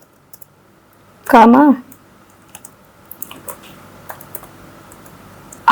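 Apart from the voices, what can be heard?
typing on computer keyboard in Excel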